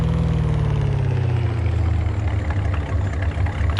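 Supercharged International diesel truck engine in Farming Simulator 25, idling with a loud, steady low rumble and a constant droning hum throughout, no voices.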